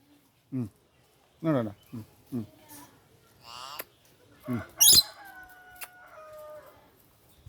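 A myna calls up close with a few short squawking bursts, then a clear drawn-out whistle, while people chatter nearby.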